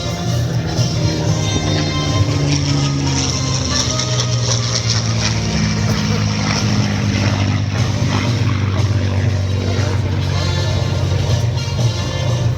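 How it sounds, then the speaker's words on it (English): A Spitfire with its original Rolls-Royce Merlin 70 engine drones loudly and steadily throughout, a continuous piston-engine roar at an air show. "This aircraft, ladies and gentlemen, is the only flying Spitfire with its original Rolls-Royce Merlin 70 engine."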